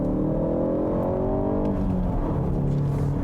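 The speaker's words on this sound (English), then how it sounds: "And the sound the engine produces is full and satisfying." A Ford Focus ST with a 2.3-litre four-cylinder engine accelerating hard. The engine note is loud and close, rises steadily in pitch, then drops back and climbs again, as after a gear change, with no talking.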